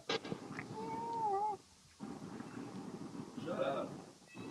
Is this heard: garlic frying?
no